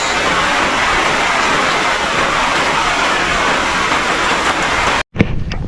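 Steady rain pattering on surfaces, an even, dense hiss that holds for several seconds before cutting off abruptly near the end.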